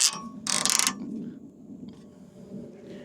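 A ratchet strap clicks tight on a bike hitch rack, with a few sharp, close ratcheting bursts followed by quieter creaks and mechanical clicks.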